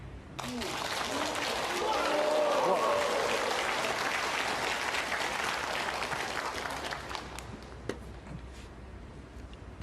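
A snooker crowd at the Shanghai Masters 2023 quarter-final applauds a shot in steady clapping that lasts several seconds and then thins out, while a commentator talks over it.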